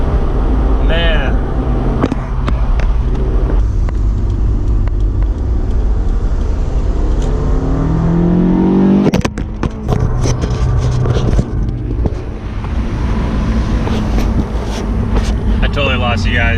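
A car engine revs and climbs steadily in pitch before cutting off, then idles under constant wind buffeting on the microphone, with people talking over it.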